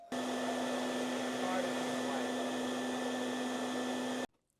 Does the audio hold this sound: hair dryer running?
yes